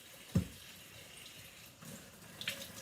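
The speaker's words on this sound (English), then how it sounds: "So I use soap and a sponge, and I do the top, the sides, and the bottom." A glass jar being washed with soap and a sponge at a sink, with a short scrubbing thump near the start, some water noise at the tap, and a light clink near the end.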